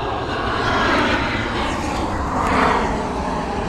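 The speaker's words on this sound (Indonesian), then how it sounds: "Ini pesawat benar-benar deket nih di sini nih." A fixed-wing airplane roars close overhead near an airport, loud and steady with a broad engine rumble that swells and fades slightly, with no talk.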